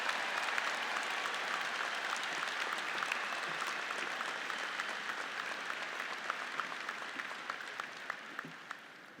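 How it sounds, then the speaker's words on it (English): A large audience applauds at a spring university commencement ceremony, a broad steady roar of clapping that slowly tapers in volume toward the end. "Let's give the class of 2023 a round of applause."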